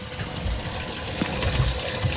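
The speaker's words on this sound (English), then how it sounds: "Water in the live well." Water pours into a boat's live well during a summer crappie fishing trip on Mark Twain Lake, a steady gurgling splash with small bubbling bursts, close and continuous with no talking.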